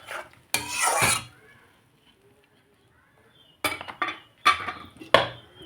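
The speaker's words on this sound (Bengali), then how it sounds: "এখন আমি মশলাটাকে ভালোভাবে আলুর সাথে কষিয়ে নেব" Spices stirred with potatoes in a pot for a katla fish curry, scraping spoon strokes against metal in short bursts separated by a quiet pause, close up.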